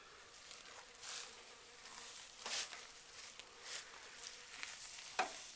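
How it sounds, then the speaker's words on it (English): Green flies buzz steadily around a deer carcass outdoors, a low droning hum that swells and fades as they move close by, with no one speaking. "these green flies that are buzzing around"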